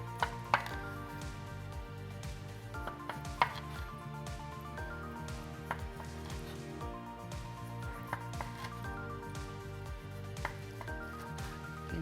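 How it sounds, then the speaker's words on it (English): A knife slices repeatedly through sesame-crusted seared bluefin tuna on a cutting board, giving steady, close, evenly paced cuts with light board knocks and no voices. "while we slice our tuna"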